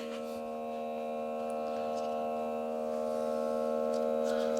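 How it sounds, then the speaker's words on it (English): A smoke machine switched on indoors gives a steady electrical hum with strong tonal harmonics, holding constant and swelling slightly louder for several seconds, with no talking. "This is my smoke machine. Let's turn it on, like that."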